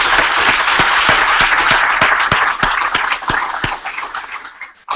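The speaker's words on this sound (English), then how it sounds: "Let's just give a big round of applause." A big round of applause from a live audience at an entrepreneurship talk, dense steady clapping near and loud, with a few sharper claps standing out, fading away in the last second.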